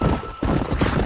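Horse hooves galloping in the Red Dead Redemption video game, a dense, steady clatter of clip-clop beats close up, with a short break before the pounding resumes, loud throughout.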